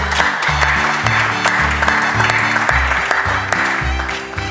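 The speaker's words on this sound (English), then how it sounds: "And give a very big clap offering." Congregation clapping together in a Ghanaian church during a bishops and pastors leadership conference, steady dense applause over loud music with a pounding bass line.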